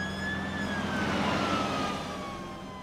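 Cartoon fire engine siren wailing with a slowly falling tone over steady engine rumble, loud and continuous for a few seconds with no voices.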